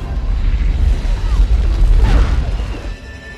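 A deep, rumbling sci-fi planet explosion effect rolls on with a sustained low boom and crackling debris, loud throughout before tapering off near the end.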